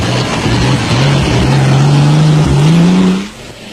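An aging Toyota Land Cruiser off-road race vehicle drones loudly with a steady engine note that climbs gradually, then cuts away abruptly near the end amid wind and outdoor noise at an off-road race in South Africa.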